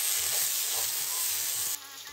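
Ground green pea paste frying in oil tempered with cumin and asafoetida, a steady close sizzle with faint soft stirring, which drops quieter near the end; no voices.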